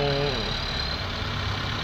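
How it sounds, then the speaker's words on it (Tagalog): A Toyota Corolla engine with replaced valve seals is revved, a close mechanical drone whose pitch falls away as the revs drop back toward idle, steady and fairly loud. "At ngayon susubukan na po natin to i-revolution kung uusok pa ba itong sa tambutso nito."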